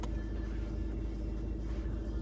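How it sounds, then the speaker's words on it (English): A 180HP VW Scirocco cruising on an open road gives a steady, low rumbling engine and tyre drone heard from inside the cabin, continuous and moderately quiet with no talk. "the sound of the road, the sound of the car"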